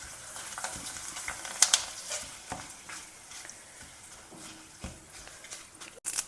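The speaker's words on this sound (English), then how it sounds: "add it to the oil. Let them get fried well in this oil itself." Small chopped vegetable pieces frying in hot oil in a home kitchen, stirred and moved around: a steady soft sizzle with scattered scraping stirs and a few sharper clinks, no talk.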